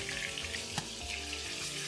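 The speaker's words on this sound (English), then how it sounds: "Now let's get a non-stick frying pan and put the chicken skin side down." Chicken skin-side down sizzles and crackles quietly in a hot non-stick frying pan, a steady frying hiss with one small clink partway through.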